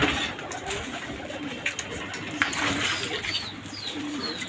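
Pigeons coo softly inside a loft holding a large group of newly penned birds, low murmuring calls overlapping continuously with faint flutters and background noise.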